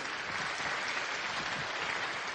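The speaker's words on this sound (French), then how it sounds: "merci également d'applaudir Karima Dembri, s'il vous plaît" An audience at an awards ceremony applauds a regional laureate, a steady, dense wash of many hands clapping at a moderate distance, even in level throughout.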